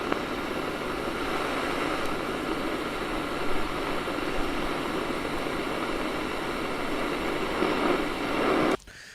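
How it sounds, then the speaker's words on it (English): Old tape loop played through a Roland Space Echo gives a dense, hissy lo-fi texture with steady wideband noise and low rumble, continuous and fairly loud, cutting off abruptly near the end. "I just basically played a very, very old tape loop that's been on there since when I bought it from reverb.com"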